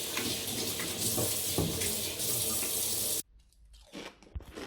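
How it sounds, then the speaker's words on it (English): A kitchen tap runs steadily into a sink while hands are washed, a loud close splashing stream that cuts off abruptly, leaving a few faint drips and handling noises. "I need to wash my hands and get all this chickeny shit off me."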